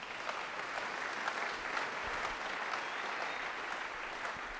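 A church congregation claps and cheers for the Lord during a sermon, a steady wash of applause from a large crowd that holds at an even level throughout.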